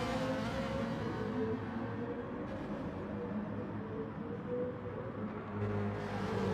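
Race cars in a video game at Blue Moon Speedway, a Ferrari drifting out of turn 1, with a steady loud engine drone and revving that holds throughout, no pauses.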